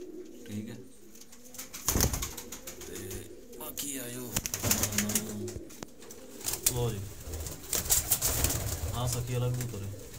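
Teddy pigeons coo repeatedly in low, throaty bursts amid a noisy, busy background in Faisalabad, with someone talking over them.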